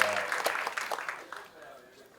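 An audience at a film trailer launch event claps in a brief burst of applause that fades out over about two seconds, with a voice speaking over it.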